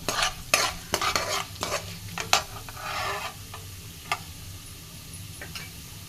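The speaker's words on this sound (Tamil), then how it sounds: "கடலைப்பருப்பு வதங்கிட்டுருக்கு" Chana dal sautés in a pan until golden, with a spatula clicking and scraping in quick bursts over a low, continuous sizzle that settles into a quieter fry.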